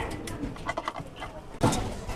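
Caged pigeons coo softly in a few low, throaty bursts close by, with faint rustling and shuffling in the background.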